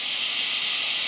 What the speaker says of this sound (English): I have a Steve Lukather overdrive here, which has no noise gate. When you turn it on, it sounds like this.